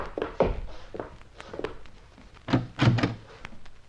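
Cabin door in a radio drama: a series of wooden thuds and knocks, followed by a heavier cluster of bumps and clatter as the door opens, fairly close, with no voices.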